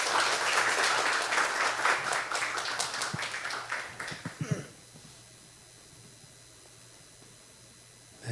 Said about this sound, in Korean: 우리 마음을 담아 우리 박수로 환영하도록 하겠습니다